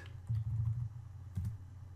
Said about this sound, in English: let's type this in the formula bar instead. So we'll type concatenate.